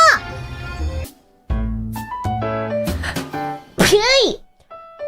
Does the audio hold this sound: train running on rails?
no